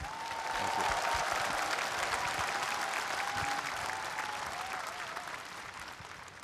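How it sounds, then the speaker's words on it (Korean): Sustained audience applause fills a memorial ceremony for the late former Korean president Roh Moo-hyun, a dense, steady clatter of many hands with a faint tonal hum and brief voices beneath it. "다시 한번 큰 박수 부탁드리겠습니다"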